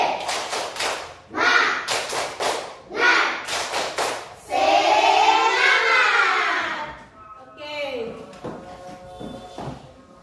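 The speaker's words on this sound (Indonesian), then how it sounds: "Kita tepuk semangat dulu ya." An Indonesian school class performs the tepuk semangat, loud rhythmic bursts of group clapping alternating with shouted chant, a long rising group cry in the middle, then quieter voices at the end.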